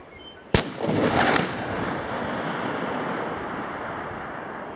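A single sharp .375 CEB rifle shot cracks out, followed by a long rolling echo that fades slowly across open long-range terrain, with no voices.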